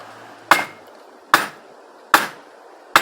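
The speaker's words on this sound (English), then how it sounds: "So not to damage the valve, we're going to tap it on this bit of wood." An engine valve from a Mitsubishi 2.5L 4D56 diesel being tapped on a block of wood gives four sharp, solid knocks spaced roughly a second apart, close and alone with no talking.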